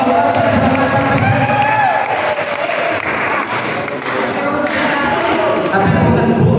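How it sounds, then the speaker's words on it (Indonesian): Noisy crowd at a village carnival planning meeting, clapping and cheering mixed with voices and thumps, loud and continuous throughout. "Tepuk tangan semua buat Macan PD"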